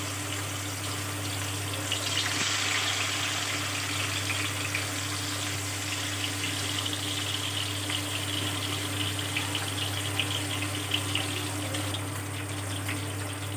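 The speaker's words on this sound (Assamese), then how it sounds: "মাছ ফ্ৰাই কৰি ল'ম" Three pieces of fish frying in hot mustard oil in a kadai, a constant loud, even crackling sizzle over a low steady hum.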